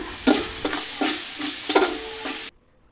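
Ginger-garlic paste sizzles in hot oil for a beef biryani, with a steady frying hiss broken by several louder bursts as it is stirred, ending abruptly after about two and a half seconds.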